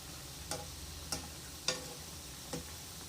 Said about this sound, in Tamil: லேசாக கிண்டி விடுவோம்.